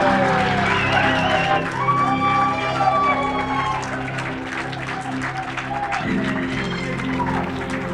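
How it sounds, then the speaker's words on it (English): Wedding guests at Belmond El Encanto clap steadily and loudly throughout, with cheers and whoops rising above the applause and voices mixed in. "You can clap if you want"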